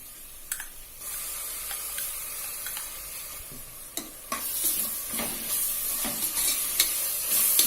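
Ginger and garlic are sautéed with onions in a pan for a horse gram vegetable biryani, with a low sizzle and intermittent clicks of a spatula, the frying hiss growing louder and brighter halfway through.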